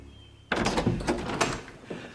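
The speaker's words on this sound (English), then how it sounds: "And then there's a knock at the door." A door sound effect for an audio drama: a sudden loud thump, then a few heavy raps or bumps in quick succession, close and clear.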